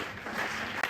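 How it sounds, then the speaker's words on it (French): Church congregation applauding during a French-language Sunday service, a short burst of steady crowd clapping filling the room at moderate loudness. "Acclamons pour Jésus."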